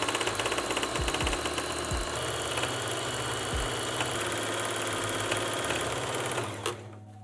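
A sewing machine stitches repairs on distressed denim jean shorts, its motor chattering in a steady rapid rhythm, loud and close, running without a break until it stops abruptly near the end.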